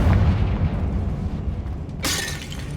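A Confringo fire spell in Hogwarts Legacy on PS5, a deep rumbling blast that fades, then a sharp bright crackling burst near the end, with no talking.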